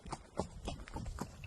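A horse walks on a trail ride, its hooves landing in a steady, even clip-clop roughly every quarter second, close and fairly loud against outdoor background noise.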